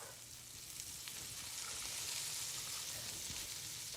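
Chopped carrots sizzle in melted butter in a hot pan, a steady soft crackling hiss that carries on evenly without talking.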